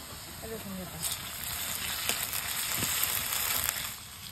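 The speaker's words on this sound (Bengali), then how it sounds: "পেঁয়াজটা একটু লাল লাল করে ভেজে নিয়েছি। এবার দিয়ে দেবো রসুন বাটা" Garlic paste hits onions already fried until reddish in a pan, setting off a steady, close hiss of sizzling frying with a few faint stirring clicks; a voice murmurs briefly in the background.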